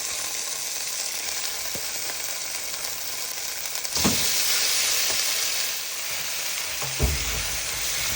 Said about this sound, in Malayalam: ഇനി അടുത്ത ചിക്കൻ ഇടുന്നുണ്ട്